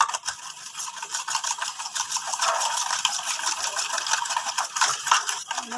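Brownie batter is mixed by hand in a bowl, giving a continuous close scraping and swishing sound with soft irregular strokes.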